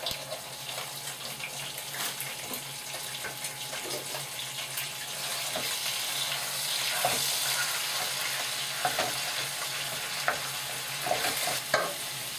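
Ground beef browning in a pan for Bolognese sauce, a steady loud sizzle that builds slightly over time, with occasional stirring scrapes and clicks and no talking.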